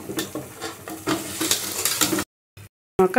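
Boiled mutton with ginger-garlic paste and turmeric fries in a pan, sounding as a close sizzle with repeated scraping stirs, then cutting out into short silences before a final burst of frying.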